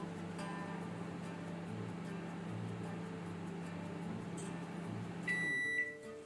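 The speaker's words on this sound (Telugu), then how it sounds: "చూసారు కదా, ఎండ్ అయిన తర్వాత బీప్ సౌండ్ ఎలా వచ్చిందో." LG microwave oven heating a cup of milk hums steadily and quietly, then sounds a short run of bright electronic beeps near the end as its timer finishes.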